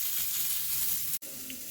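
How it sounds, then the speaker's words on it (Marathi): Onion and masala fry in a pan with a dense, steady sizzle that briefly drops out for a moment, then resumes, close and fairly loud. "मसाला हा छान परतून झालेला आहे"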